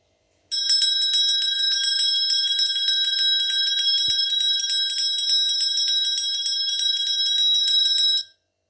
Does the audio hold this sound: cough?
no